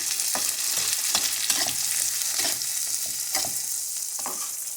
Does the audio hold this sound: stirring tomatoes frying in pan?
yes